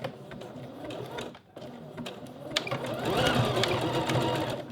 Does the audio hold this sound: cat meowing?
no